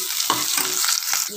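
Onions fry in oil with salt, giving a close, bright hissing sizzle with several quick stirring scrapes over the short stretch.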